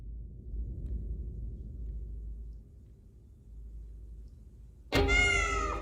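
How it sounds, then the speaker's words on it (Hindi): After several seconds of low, dark rumbling ambience in a horror movie scene, a cat lets out a sudden, loud, close meow near the end. "बिल्ली है।"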